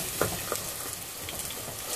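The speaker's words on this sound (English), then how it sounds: "Now what we are gonna do is we are just gonna mash this with our spatula." Cooked turnip being mashed with a spatula in a hot pan, giving a steady soft sizzle with a few light scraping taps near the start, close and moderately quiet throughout.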